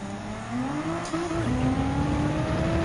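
A race car engine in Gran Turismo 7 at Circuit de Spa-Francorchamps revs hard and holds a loud, rising drone that steps up through gear changes, steady and close throughout with no voices.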